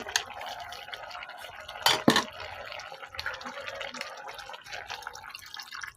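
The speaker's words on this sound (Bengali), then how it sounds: "এখন আমি শোল মাছটা দিয়ে দিব" Whole snakehead fish added to a pot in a Bangladeshi village kitchen, heard as a loud watery splash and clatter near the middle, followed by steady bubbling and dripping of cooking liquid.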